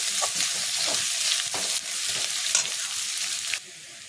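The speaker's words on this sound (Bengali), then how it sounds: "এইগুলো ভালো করে ভাজা ভাজা করতে হবে।" Chopped onion fries in a pan with a steady, loud hiss and sizzle, broken by a few stirring scrapes, before the sound drops abruptly near the end.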